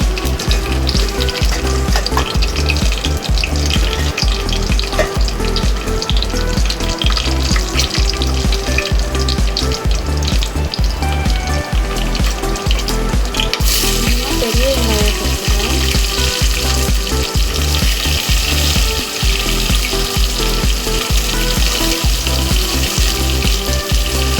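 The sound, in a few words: fennel and chillies frying in oil, stirred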